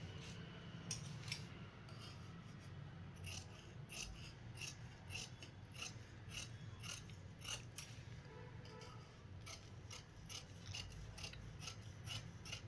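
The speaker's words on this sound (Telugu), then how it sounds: "లైనింగ్ మెయిన్ క్లాత్ రెండు ఒకటేసారి కట్ చేస్తున్నాను నేనైతే" Scissors slice through blouse lining and main cloth layered together, giving a faint, steady series of crisp snips and rasping cuts close by with no talking.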